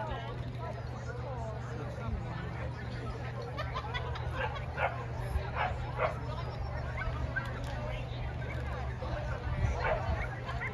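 Dogs bark, yip and whimper repeatedly at the Ottawa Dog Show, amid a steady hall babble of many people talking and a low hum.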